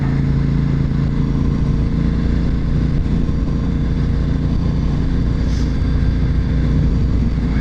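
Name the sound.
Honda RC51 motorcycle riding on highway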